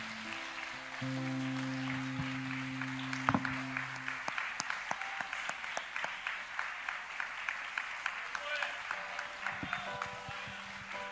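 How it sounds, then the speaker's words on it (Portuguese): A church congregation claps in praise to Jesus, starting as a soft crowd wash and settling into a steady rhythmic beat of hand claps over a sustained organ-like tone that returns near the end. "Vamos aplaudir a Jesus pela minha família"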